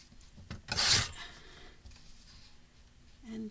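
Scissors snip through craft paper while it is cut into small strips for a DIY mini bag pocket, giving one bright, close crisp cut and a few softer rustles and scrapes at a quiet level.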